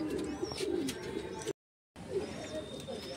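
Madrasi pigeons in a backyard loft in Kharagpur give soft, steady cooing with a few higher chirps, close by and moderate in level, broken by a short silent gap partway through.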